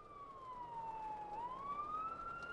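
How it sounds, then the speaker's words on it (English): A police patrol car siren wails in the Watch Dogs video game, one steady tone dipping then climbing again, heard alone at a moderate distance with no talk over it. "Damn, that's a patrol car."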